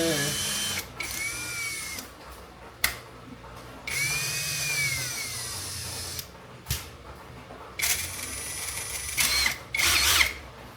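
A Nanwei 16.8V cordless drill whirs in several short bursts at slow speed, each motor whine starting and stopping with clicks in between, close up, with a voice talking over parts of it.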